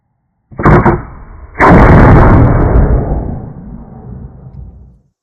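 A Brown Bess flintlock musket fires with a sharp priming crack followed a second later by a loud, booming main discharge that rolls off slowly over several seconds, nearby and alone.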